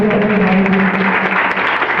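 An audience at a ceremony breaks into loud applause, a brief, dense burst of clapping with voices murmuring underneath.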